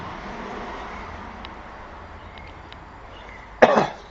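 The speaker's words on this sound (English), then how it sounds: "Excuse the coughing." A single short cough bursts out near the end after a quiet stretch of faint background hum.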